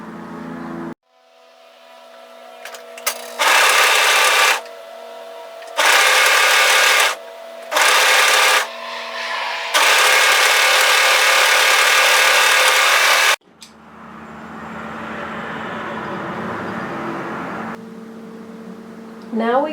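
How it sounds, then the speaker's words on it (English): An overlocker sews the long curved hood edge of a Molly yoke sweater in bursts of loud, fast whirring. Short pauses separate the runs, and a quieter, lower hum follows near the end. "We want to overlock this long curved edge together."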